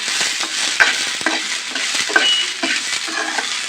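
Sweet corn kernels roasting and frying in a pan, with a steady close sizzle broken by occasional scrapes and knocks of stirring, and no voices.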